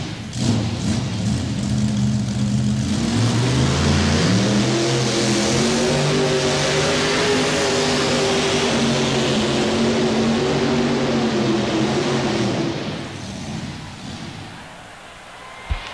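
A mini rod pulling tractor at the 1989 National Farm Machinery Show in Louisville, Kentucky, roars through a long loud run with its engine pitch climbing and holding high, then cuts off and fades into quiet.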